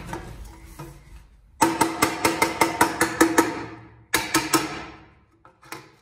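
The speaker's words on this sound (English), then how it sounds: "I'm gonna take a hammer" Hammering a folded sheet metal seam, a rapid run of sharp ringing metallic strikes, close and loud, pausing briefly before a second shorter burst of blows.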